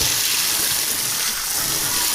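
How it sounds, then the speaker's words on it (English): Water from a hose running steadily into a duck pen outdoors in winter, a continuous broadband hiss and gush with no pauses throughout. "I'm going to turn the water onto the pen."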